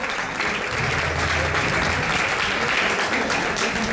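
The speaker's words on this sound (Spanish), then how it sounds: "fuerte el aplauso para Robertito" Concert audience applauding a bass player, loud continuous clapping and crowd noise filling the whole stretch with a faint voice underneath.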